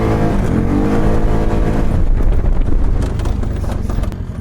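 A Polaris ACE 570 off-road vehicle accelerating hard, a loud, close engine roar climbing in pitch with wind buffeting the microphone, rough and gritty toward the end.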